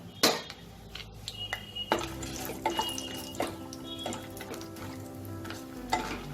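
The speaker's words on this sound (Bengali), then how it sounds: "এই বড়িগুলো আমি একটু ভেজে নেব।" Lentil dumplings (bori) fry in hot mustard oil in a pan, giving a close, steady sizzle with sharp pops and spoon-stirring clinks against the metal, and no voices.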